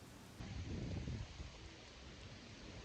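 Rain falls steadily in London, a soft hiss of drops on surfaces, briefly louder and fuller near the start before settling into a faint, even patter.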